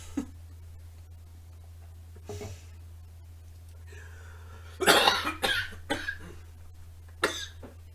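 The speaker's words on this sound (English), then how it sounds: "we are back after that coughing fit from me choking on coffee" A harsh coughing fit from choking on coffee bursts out in several rough, closely spaced coughs after a brief quieter cough, close by with low background hum.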